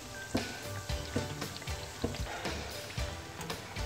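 Snacks frying in hot oil in a home kitchen, a steady soft sizzle broken by repeated bubbling pops and stirring bursts about every half second, fairly quiet and close.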